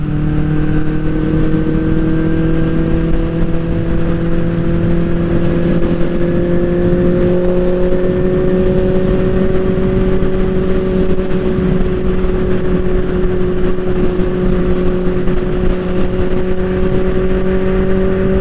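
A Honda CB550 Four motorcycle accelerates steadily on a highway, its inline-four engine note rising slowly in pitch as it gains speed, loud and continuous with heavy wind rush and no talking.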